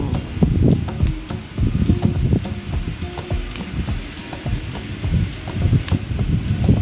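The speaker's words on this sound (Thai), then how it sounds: "อุ้ยลมไหล ลมแห้งค่ะ" A dry wind blows steadily through an outdoor chilli garden on a warm, sunny day, a constant rushing roar broken by soft rustles and light knocks, close to the microphone with no talking.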